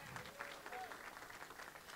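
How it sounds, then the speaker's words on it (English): A faint round of applause from a gathered crowd greets council member at-large Anita Bonds at an apartment building dedication ceremony, a soft steady patter of clapping heard from a distance throughout. "And council member at-large, Anita Bonds, give her a round of applause."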